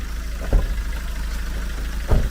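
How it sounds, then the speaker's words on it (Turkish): A car engine idles nearby with a steady low hum, broken by two soft thumps. "Motorun sesini duyuyorsun arkadaşlar."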